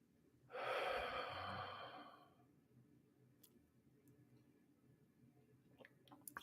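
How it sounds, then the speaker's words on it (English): A person draws one long, deep audible inhale through the nose and mouth, close and fairly loud, followed by quiet room tone and a few faint ticks. "I'm going to take a breath."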